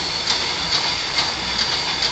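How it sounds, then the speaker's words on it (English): A line-shaft-driven engine lathe in a heritage machine works runs with a steady mechanical whir and a soft rhythmic clatter repeating about twice a second, fairly loud and close, with no voices. "And that'll kick the engine and the lathe on."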